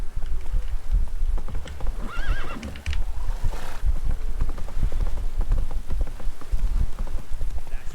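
Roach the horse galloping in The Witcher 3: rapid rhythmic hoofbeats close and loud, with a whinnying neigh partway through, over a faint rain patter.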